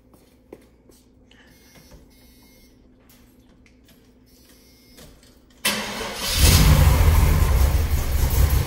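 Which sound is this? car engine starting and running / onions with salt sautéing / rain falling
car engine starting and running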